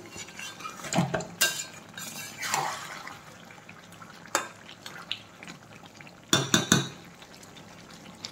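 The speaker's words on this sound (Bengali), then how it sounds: "ভালো করে কিন্তু নেড়ে চেড়ে চিকেন কষিয়ে নিতে হবে।" Deshi chicken cooked with ground spice paste is stirred in a pot: a few scattered metal clinks and scrapes of a spoon against the pot, with bursts of clatter near the end over a faint background.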